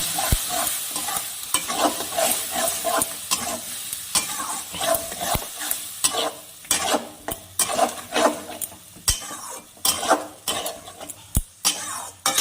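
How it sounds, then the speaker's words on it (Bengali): Spice paste with tomato and salt stir-fried in a pan for fish curry: a loud, constant sizzle under repeated scraping strokes and sharp metal clicks of a spoon against the pan, with no speech. "এখন আমি মশলাটাকে ভালো করে কষিয়ে নেব।"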